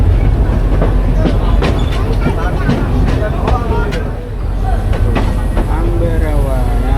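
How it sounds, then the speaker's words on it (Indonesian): A tourist train at the Ambarawa railway museum runs along the rails with steady close rumbling and repeated clickety-clack wheel beats over rail joints, with squealing tones near the end. "Ada diesel. Ada kereta diesel lain."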